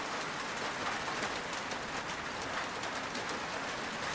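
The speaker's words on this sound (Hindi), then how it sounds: "मछलियों की बारिश हो रही है" Steady rain falls, a dense, even hiss of drops on surfaces that continues throughout.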